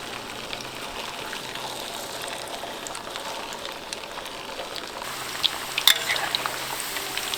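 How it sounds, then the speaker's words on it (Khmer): Banana pieces fry in hot oil, giving a steady, close sizzle and crackle that runs on evenly, with a few brief clinks of a utensil near the end. "តាមបំពងចេក"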